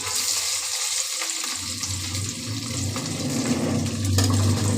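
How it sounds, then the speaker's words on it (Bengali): Cornflour-coated paneer pieces frying in a wok, a loud dense sizzle and bubbling that swells toward the end, with a few brief clatters of stirring. "এটাকে আমি আগে একটু ভেজে নিচ্ছি"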